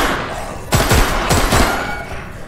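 An AK-47 firing 7.62 rounds in a virtual reality game lets off two loud, sharp bursts of rapid shots, each trailing into a short echoing decay.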